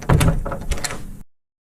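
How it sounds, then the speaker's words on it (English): A door swings open slowly in a quiet interior, giving a close, soft creak and thunk that fades out after about a second. "Then the door opened slowly."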